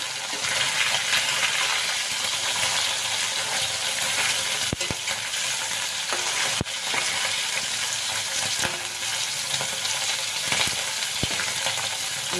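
Tangra fish fry in hot oil, giving a loud, steady, close sizzle throughout with a few sharp clicks of a utensil against the pan and no talking.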